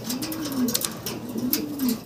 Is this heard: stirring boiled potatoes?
no